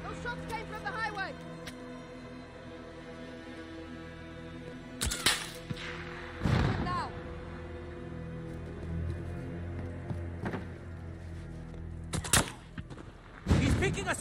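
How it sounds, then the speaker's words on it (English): Loud gunshots ring out in Call of Duty: Modern Warfare (2019) along a highway. Single cracks and short bursts come at irregular intervals, with echoing reports and some distant fire, mixed with in-game voices and a low rumble. "Those shots came from the highway!"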